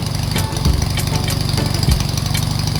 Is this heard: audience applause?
no